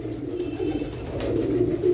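Pigeons cooing in a continuous low throaty drone close by, steady and moderately loud across the short stretch, with no talking.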